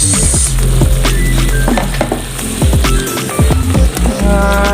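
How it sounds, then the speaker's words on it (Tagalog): Pork adobo bubbling over a medium fire as peppers go in, loud close sizzling and simmering with scattered clinks of utensils against the pot. "So let's boil for about 20 minutes in a medium fire. Let's add the peppers."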